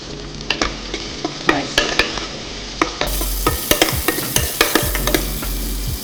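Chopped onion sizzles and fries in a pan with shahi jeera for a Hyderabadi biryani. Repeated stirring scrapes and taps sound close up over a steady frying hiss.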